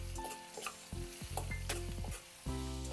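Chopped garlic and curry leaves sauté in oil over a low flame, a soft close sizzle with intermittent stirring scrapes.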